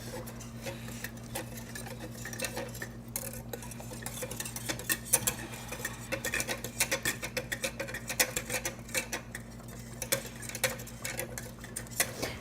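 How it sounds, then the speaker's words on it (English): A flour-thickened sauce for lasagna stirred in a pot as it comes to a boil, with soft repeated scraping and light clicking strokes over a steady low hum and no talking. "I'm going to give this a stir while you're stirring this, so keep going"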